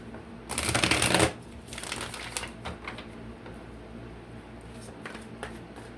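A deck of cards is riffled in one crisp burst, followed by softer shuffling and a few light taps as the cards settle.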